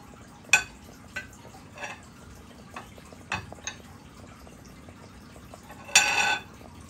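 Stirring raso malai with pistachio and almond: light scattered clinks and scrapes of a spoon against a pot, a few sharper knocks and a brief louder scrape near the end, otherwise quiet.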